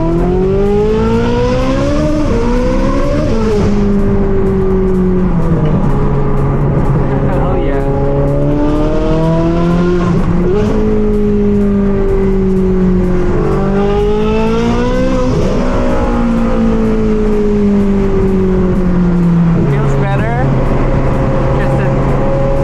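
A Ferrari sports car engine with a rough idle, running and driving, rising and falling through repeated revs and gear changes, loud and close over twenty-odd seconds.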